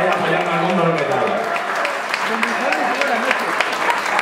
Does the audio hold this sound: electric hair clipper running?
no